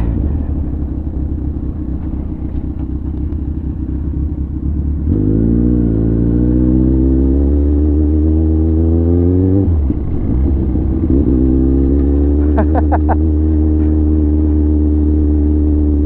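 A Kawasaki Ninja 1000cc motorcycle on a test drive, its engine droning loud and close, then revving up through rising pitches, dipping briefly and climbing again in a continuous run.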